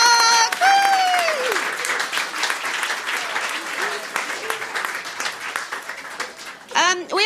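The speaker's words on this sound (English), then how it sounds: "Big round of applause for Mark!" At a storytelling night, an audience claps and applauds steadily, with a voice calling out and a few whoops and cheers over the clapping.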